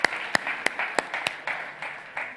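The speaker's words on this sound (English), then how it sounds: "Warm round of applause, please." Applause welcoming the Klarna CEO and the BBVA chairman onto the Arena Stage at South Summit 2021, a fairly quiet, thin patter with a few sharp louder claps standing out over about two seconds.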